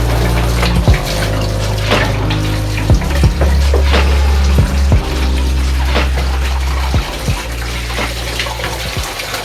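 Water drains from a car's cooling system after a timing belt change, a loud steady gushing and splashing stream close by, with a few knocks and clunks breaking in.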